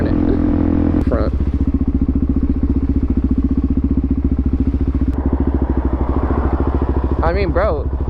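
A supermoto motorcycle engine runs steadily nearby with a loud, even, throbbing idle, a slightly rough edge in its note, and a brief voice near the end.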